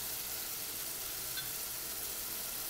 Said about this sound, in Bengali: এই মশলাটার সাথে টমেটোটা আমি খুব ভালো করে কষিয়ে নিব